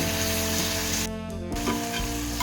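Masala frying in a pan for mushroom gravy gives a steady, close sizzle that runs throughout, with a short dip partway and no voices.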